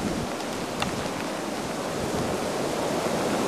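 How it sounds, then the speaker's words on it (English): Wind blowing hard during a snow and sleet storm outdoors, a dense, steady rushing roar with constant microphone buffeting and no let-up, heard alone. "Look at the wind blow."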